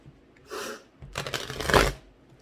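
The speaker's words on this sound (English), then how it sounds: "I swear I know how to shuffle." A deck of tarot cards is shuffled twice on a cluttered table, a short soft riffle followed by a longer, louder flurry of cards slapping together, close and with no talking.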